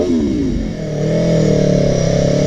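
A motorcycle engine revs loudly and close, its pitch dipping briefly then climbing into a steady, rising drone without any talk.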